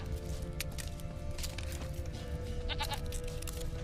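Goat in the video game The Witcher 3 gives a short bleat near the end over a low, steady game background hum.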